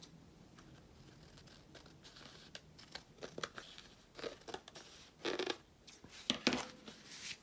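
Scissors snip through paper while a journal is being made: a series of quiet, close cuts and crisp paper rustles that grow louder and more frequent toward the end.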